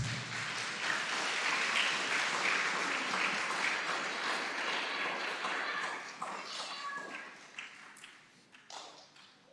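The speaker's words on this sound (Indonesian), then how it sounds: "Kita beri aplaus Bapak, Ibu, dan Saudara terkasih" Church congregation at a Sunday service clapping together in a sustained, dense round of applause that thins out and fades into scattered claps toward the end, heard from within the hall.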